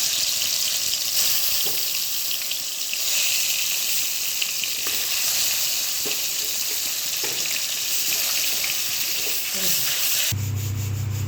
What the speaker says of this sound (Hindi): तेल गर्म हो गया है, इसमें मछली डाल दे रहे हैं।